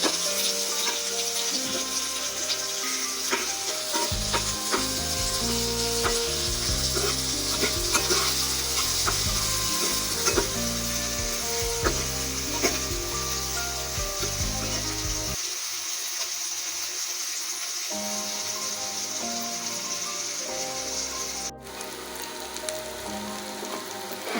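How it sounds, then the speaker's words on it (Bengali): Onion, green chili and garlic frying in a pan for a coriander leaf bharta, a steady close sizzle with bursts of stirring scrapes, no talking. "এখন আমি পেঁয়াজ কাঁচামরিচ রসুন একটু বেজে এই যে লাল লাল হয়ে উঠতেছে"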